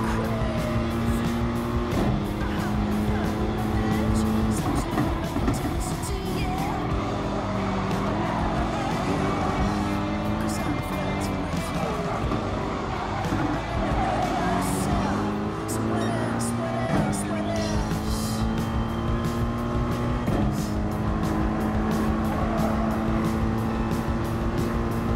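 Race car engine in the Gran Turismo Sport racing game, a steady loud drone that rises and falls with the throttle and shifts gears several times, sometimes under talk.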